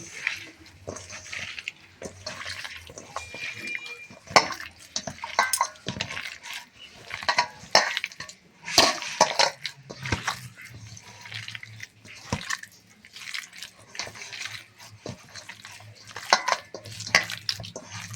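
Sabudana pakora batter being mixed by hand in a bowl, soft irregular squelching and scraping with occasional light knocks against the bowl, fairly quiet and close, no talking.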